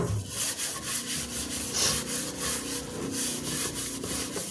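A cooking pot is scrubbed clean by hand after cooking, with steady, rhythmic rubbing strokes repeating close up, with no talking.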